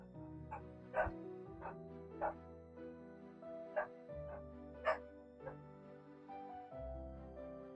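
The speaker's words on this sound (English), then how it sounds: "I'm sure you heard the dogs" Dogs bark and yip in scattered single barks about once a second, faint and somewhat distant, over a steady low humming background with no talk.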